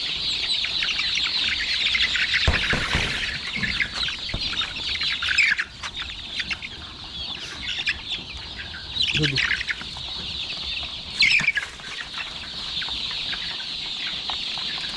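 Several chickens crowded together cluck and squawk close by at night during vaccination, a busy, overlapping chorus with occasional louder outbursts above constant bird chatter.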